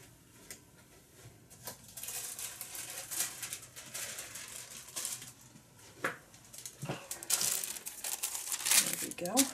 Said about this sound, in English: I'm going to get my waxed paper.